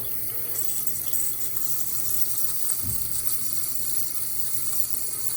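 Water hisses and bubbles steadily from a toilet tank fill valve, a faint continuous spray with a soft gurgle midway, recorded close in a quiet bathroom.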